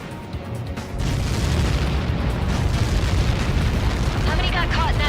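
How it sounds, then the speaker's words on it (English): A huge impact explosion in the Ace Combat 7 flight game bursts in after a quiet second, leaving a dense, sustained rumbling roar with crackling debris that stays loud to the end. "How many got caught in that explosion?"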